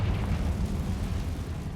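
A Confringo explosive spell goes off in the Hogwarts Legacy video game, heard as a steady, loud, low rumbling blast that fills the whole moment with a dense boom and no clear break.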